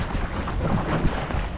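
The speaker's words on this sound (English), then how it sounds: "So the wind's picked up a bit." Steady wind roars across the microphone aboard a small dinghy cruising in South East Queensland waters, a loud continuous rush with low buffeting and no voices.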